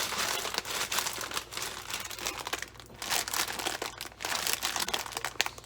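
Close, continuous crinkling and rustling of a plastic bag of packaged shredded iceberg lettuce being handled and pulled open, busy and crisp throughout with no speech.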